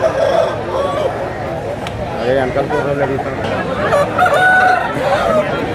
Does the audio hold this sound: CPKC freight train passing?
no